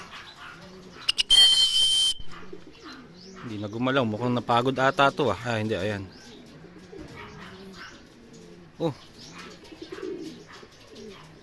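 Racing pigeons coo and flutter on returning from an 80 km training flight, several soft coos up close, with a brief burst of wings and someone talking over them.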